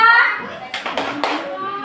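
Three sharp hand claps in an even rhythm, close by, following a voice speaking.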